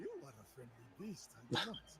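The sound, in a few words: puppy barking in Assassin's Creed Shadows video game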